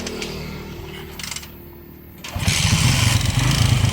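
A motorcycle engine starts up partway through after quieter mechanical sounds, then settles into a loud, steady running drone close by, with no talking.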